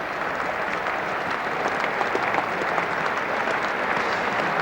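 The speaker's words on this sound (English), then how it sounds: "Relieved cheers from the crowd" Steady, loud applause and cheering fill a cricket crowd at Lord's during the 1989 England v Australia Test, a dense wash of clapping that holds evenly throughout with no pauses.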